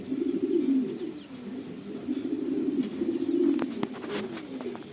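Pigeons coo in dense, overlapping calls at a pigeon market and exhibition in Dhaka-Gazipur among racer, satin and Sirazi birds, a steady nearby chorus of throaty murmurs that runs unbroken, with a few sharper chirps toward the end.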